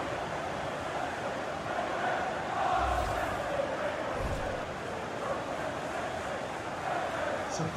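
Simulated stadium crowd in FIFA 19 during Manchester City vs Paris Saint-Germain, a dense continuous roar with swelling chants and noise, loud and steady throughout.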